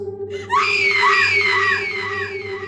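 A woman's shrill, wavering screams ring out loud as a horror sound effect in a haunted ruined house, several rising and falling cries over a steady low drone, with no speech.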